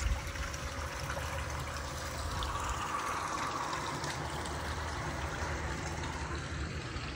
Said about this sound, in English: Nice quartz finished pool with a waterfall and spa.